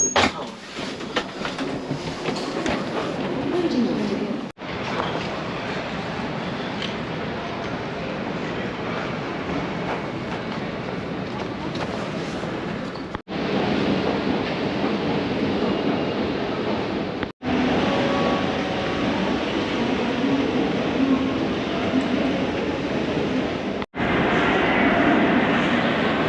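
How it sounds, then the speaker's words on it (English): Heathrow Express train running, a steady, loud rumbling roar of the rail car in motion, sustained throughout with a few brief dropouts, no talk. "here's my Heathrow Express train back home"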